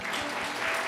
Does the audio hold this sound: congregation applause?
yes